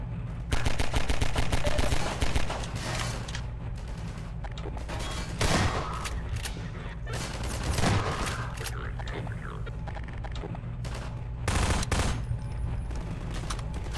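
Pistol gunfire in Half-Life 2 during a long-range firefight, rapid repeated sharp shots in bursts, loud and close, with someone talking over the shooting.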